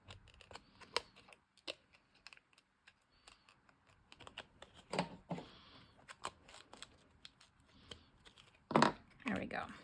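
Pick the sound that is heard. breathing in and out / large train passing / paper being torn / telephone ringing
paper being torn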